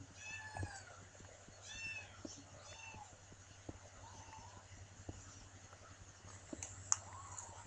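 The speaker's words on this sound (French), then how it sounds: "je vais m'occuper du chaton parce qu'il réclame" A kitten meows several times in short, rising cries, fairly faint and close, with no talking over it.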